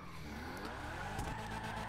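Car tires skidding and squealing through a drift in GTA 5 Online, a steady rough screech with engine drone beneath, continuous and fairly loud for the whole stretch.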